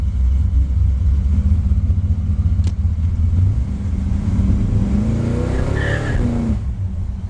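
A 1955 Chevy Bel Air hot rod with a 502 big block V8 rumbles loudly and steadily from inside the car, its deep engine note climbing in pitch as it accelerates toward the end.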